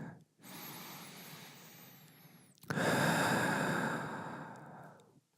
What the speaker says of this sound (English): Big breaths in and out.